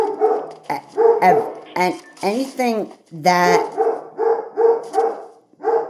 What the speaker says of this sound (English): never mind the dog barking